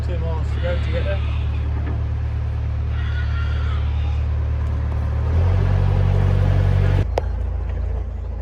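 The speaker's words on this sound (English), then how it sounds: "Oh, it's the bus, I think that's a Cathay bus." Cathay bus passing a narrowboat on the Leeds and Liverpool Canal, a steady low engine rumble that swells and grows louder near the end, heard beneath the boat's own droning motor, with people talking.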